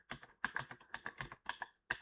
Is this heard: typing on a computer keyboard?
yes